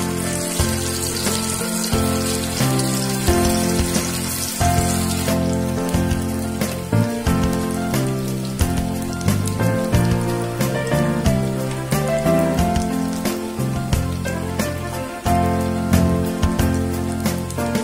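Sabudana cutlets deep frying in hot oil make a dense, continuous crackling sizzle, close and fairly loud, with popping spatters throughout and no voices.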